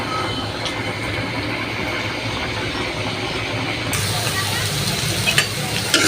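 Onion, bay leaf, cinnamon and cardamom sizzle in hot oil while cooking biryani, a steady close frying hiss that grows slightly louder partway through.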